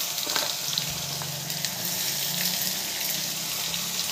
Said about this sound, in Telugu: ఇదిగో ఆనియన్స్ వేసుకుంటున్నాను